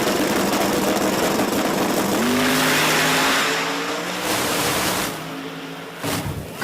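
A drag racing car makes a loud pass at Virginia Motorsports Park, its engine roaring up in a rising whine that builds, peaks and then fades as it moves away, with a brief burst again at the end.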